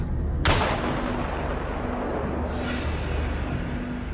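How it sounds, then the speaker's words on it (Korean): TNT charge set off to destroy an exposed green plastic landmine during demining work: one sudden loud blast followed by a long, rumbling roar of debris and echo that holds steady for several seconds. "지뢰가 드러나면 TNT를 설치한 다음 이거 연기 폭발시킵니다"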